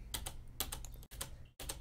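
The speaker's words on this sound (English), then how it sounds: "you can hear my keyboard clicks" Brisk clicking of a computer keyboard, keys tapped in quick irregular bursts with two brief silent gaps, close and fairly loud.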